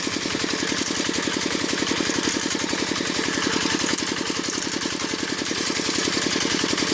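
A Zubr walk-behind tractor fitted with a mower attachment runs steadily up close, its engine chugging in a fast, even, loud rhythm with no talk.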